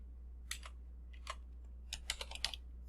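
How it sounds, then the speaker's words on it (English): Light typing on a computer keyboard, a few short bursts of key clicks with pauses between them, fairly quiet over a low steady hum. "So I'll just type for a little bit here."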